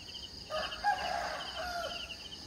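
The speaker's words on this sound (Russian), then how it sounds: "Петухи орут." Roosters crow at a distance on a quiet morning, one drawn-out call standing out faintly over a steady chirr of insects.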